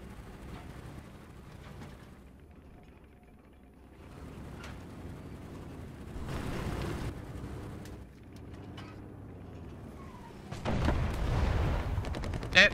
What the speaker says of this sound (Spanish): Disparo, disparo.